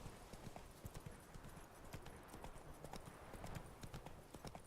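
Geralt's horse Roach trotting in The Witcher 3, a quick, steady run of crisp hoof clip-clops, close and fairly quiet, with faint game ambience beneath.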